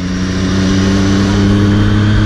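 A Triumph Street Triple 675 fitted with an Arrow slip-on exhaust runs with a steady, loud, deep engine note and no talking.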